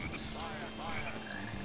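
A frog croaks in the Sonic Heroes video game, a short, steady burst of croaking over a continuous backing of game music.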